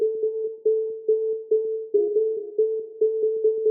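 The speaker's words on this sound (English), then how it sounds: "Vox bell right there." A synthesized vox bell tone, filtered with its highs cut and given light reverb and delay, repeats in short evenly spaced plucked notes at a steady rhythm, clean and alone with no talk.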